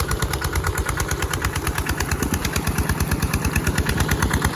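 A loud, steady diesel engine of a Kubota ET95 tractor driving a water pump chugs rapidly and evenly, running continuously close by with a rattling mechanical drone.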